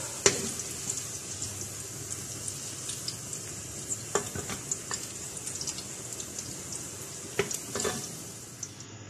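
Oil sizzles steadily as onions fry, with occasional stirring clinks and scrapes of a utensil against the pan.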